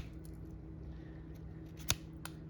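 A knife cuts through an Illinois Everbearing mulberry branch to prepare a cleft graft, giving one crisp, sharp snap against an otherwise quiet, faintly humming background.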